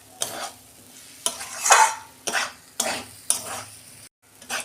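Semolina upma made with hot water stirred in a pan: five distinct scraping strokes at a steady pace, each a loud close swipe over a soft sizzle, with a short silence before the final stroke.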